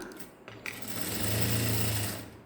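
Sewing machine stitching a hand (sleeve) design, a steady close motor whir with a rapid needle rattle building to a continuous run, loud and alone with no talking.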